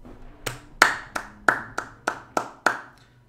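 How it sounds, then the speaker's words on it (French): Applause sound effect from the Portal 2 video game: a sparse series of about eight crisp, evenly spaced single claps, fairly close and clear, with no talking over them. "Tous en cœur, on applaudit la grosse performance."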